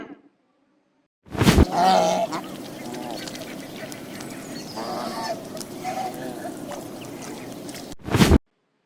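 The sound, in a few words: swan call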